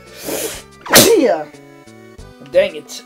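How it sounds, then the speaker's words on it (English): A single sharp, loud sneeze bursts out from a game character amid game music, with someone speaking briefly before and after it. "That was not a masterful sneeze."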